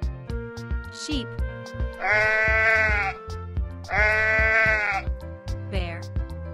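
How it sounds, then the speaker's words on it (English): Two loud, wavering sheep bleats, each lasting about a second, over a steady background of music. "Sheep."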